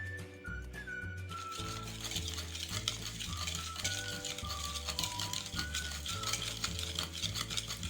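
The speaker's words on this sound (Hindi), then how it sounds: "अब हम इन तमाम चीज़ों को अच्छे से मिक्स कर लेंगे विस्क की मदद से" A whisk beats sugar, oil and other pancake batter ingredients in a bowl, making rapid, regular swishing and tapping strokes. The sound is steady and close, with no talking.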